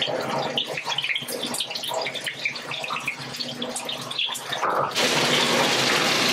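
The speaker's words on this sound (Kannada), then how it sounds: "ಈ ತರ ಒಂದು ಆಯಿಲಲ್ಲಿ ಹಾಕೊಂಡು ಇದನ್ನ ಫ್ರೈ ಮಾಡ್ಕೊಂತಾರೆ" Battered chicken pieces frying in hot oil give a loud, dense, continuous sizzle with crackling bursts, rising to a brighter, harsher hiss near the end; no one speaks.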